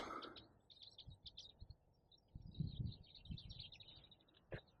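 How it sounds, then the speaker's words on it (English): Birds chirp and tweet faintly in the distance, with scattered short calls over a soft rustling background. "all you can hear is the birds"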